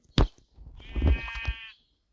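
A sharp knock, then a single wavering sheep bleat close by in Minecraft, quiet before and after.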